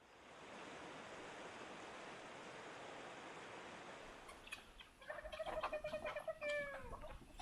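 After several seconds of steady rushing noise, chickens start clucking and squawking nearby in short, busy bursts.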